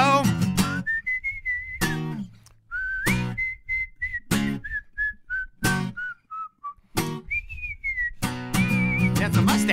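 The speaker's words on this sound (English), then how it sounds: "When I give the signal that will be time for a whistle" A bright solo whistled melody with sustained, gliding notes, repeatedly interrupted by sharp percussive hits, close and clear, alone without talk.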